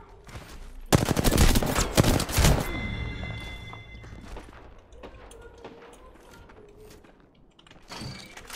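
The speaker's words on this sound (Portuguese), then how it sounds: "Eu dando tiro no Breno." Bursts of rapid video game gunfire, loud and crackling for a couple of seconds, then fading into quieter game sounds with a faint voice.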